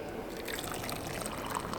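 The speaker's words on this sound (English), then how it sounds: "We're going to pour the water" Hot water pours from a flask into a cup of tea, a steady close splashing trickle for under two seconds with no talking.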